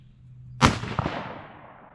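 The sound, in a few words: scoped rifle shot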